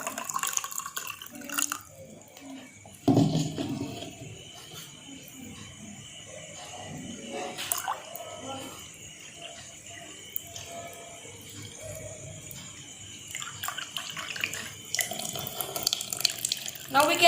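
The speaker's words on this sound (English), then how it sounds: "Pour water in the overflow vessel until it starts dripping from its beak." Water is poured into an overflow vessel until it spills and drips from the beak, a continuous running, splashing trickle heard up close with a few louder splashes and clatters along the way.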